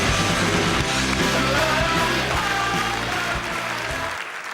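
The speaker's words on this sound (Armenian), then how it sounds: "Շարունակում ենք եւ էլի բարձր ծափարություններ եմ ակնկալում։" A studio audience at an Armenian TV comedy show applauds: dense, loud, sustained clapping that fades slightly toward the end.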